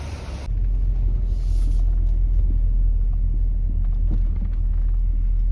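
A pickup truck engine with a new muffler rumbles steadily and loudly up close after a brief opening, a deep throaty idle with no talking.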